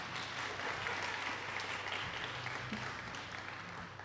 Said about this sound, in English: That means clap, y'all.